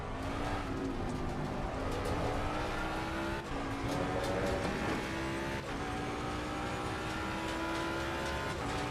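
A Mustang GT3 race car engine in Assetto Corsa Competizione, heard from the cockpit as a steady droning note that rises and dips with gear changes under a constant hum, with no talking.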